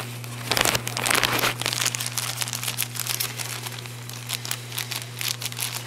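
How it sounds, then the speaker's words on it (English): Dull scissors struggle through a plastic bag while a filter is prepared, giving loud close crinkling and rustling in uneven bursts over a constant low electrical hum. "these are the dullest scissors ever. Can't even cut plastic bag"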